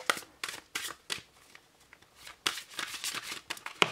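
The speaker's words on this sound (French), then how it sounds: "je vais tirer une autre carte" Oracle cards being shuffled and drawn by hand: a run of crisp riffling flicks and papery slaps in uneven bursts, close and fairly loud, pausing midway before a second flurry of card sounds.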